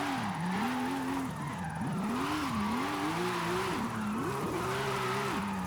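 A 900hp classic Porsche's engine revs hard in Forza Horizon 5, pitch swooping up and down repeatedly as the throttle is blipped and the car slides, loud and continuous throughout.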